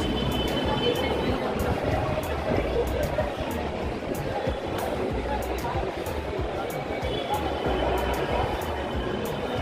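Agra Metro train heard at a station as a loud, steady rumble and rush of noise running through the whole stretch, with clicks and rattles on top and a busy crowd-like wash beneath.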